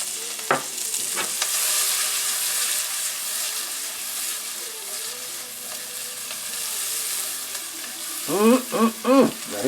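Shallots and green pepper hitting a hot frying pan for a rigatoni sauce with hot Italian sausage, a steady close hiss of sizzling throughout, with a few brief bursts of louder spitting near the start and end.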